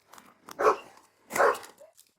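A police dog barking during a bodycam-recorded scuffle in Florida, two distinct loud barks about a second apart with faint background noise between.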